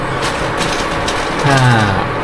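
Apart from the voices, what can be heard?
infrared stove humming noise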